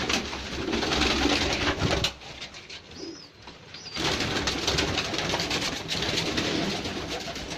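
Pigeons kept by a fancier coo steadily at close range, with a brief quieter lull midway before the dense cooing resumes; a few higher bird calls surface during the pause.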